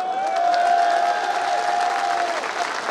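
Crowd applause at a BNP political rally, a sustained wash of clapping with some cheering, with a voice or drawn-out call carrying faintly over it.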